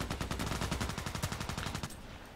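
Rapid automatic gunfire from a first-person shooter, a steady burst of about fifteen close, loud shots lasting under two seconds before cutting off, with no talking over it.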